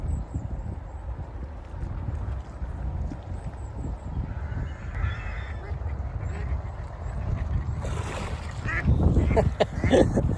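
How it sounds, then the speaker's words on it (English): A frightened duck quacks on a pond, a few harsh calls rising near the end over outdoor ambience and splashing or flapping noises, fairly close, with no speech. "I frightened the duck, sorry."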